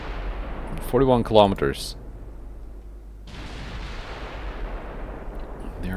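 Battleship Alaska firing its naval guns in Ultimate Admiral Dreadnoughts, a single heavy boom followed by a long rumbling roll that fades slowly, preceded by someone briefly speaking.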